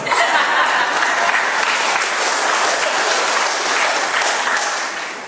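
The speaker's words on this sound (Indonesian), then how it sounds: "Tepuk tangannya panjang buat saya berhenti" Long, loud applause from an audience at a university general lecture, thick continuous clapping that fills the room and tapers slightly at the end.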